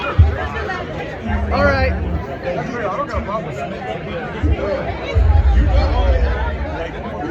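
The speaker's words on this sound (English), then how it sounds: "It's a huge crowd in front of the stage." Dense crowd chatter fills the space in front of a stage at the Roaring Riot event, a steady hubbub of many overlapping voices with nearby talk on top.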